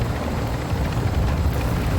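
Helicopter rotor and engine drone in Call of Duty Modern Warfare II DMZ, a steady broadband whir holding at constant loudness for a couple of seconds with no talk over it.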